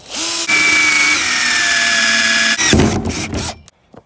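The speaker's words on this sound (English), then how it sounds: "Go ahead and drill our inlet hole too." A power drill whirs at high pitch for a couple of seconds, drilling an inlet hole in a DIY pond filter, its tone dropping slightly under load, then cuts out with a few short bursts.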